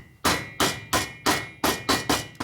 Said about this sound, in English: And we just tap this down with a hammer.